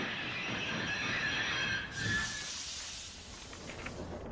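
Train brakes squeal in the countryside with a high, thin whine, then give way to a burst of hissing air that slowly fades.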